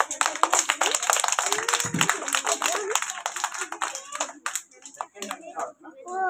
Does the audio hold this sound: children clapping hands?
yes